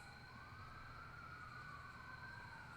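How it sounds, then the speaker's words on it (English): A steady, continuous siren wail rises and falls at a distance, with a low rumble of traffic underneath. "That's the sound of ambulance."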